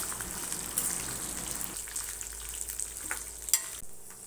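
Peanuts frying in a pan for Chettinad tomato chutney, a short bright sizzle with stirring scrapes and a sharp clink near the end before the sound drops away.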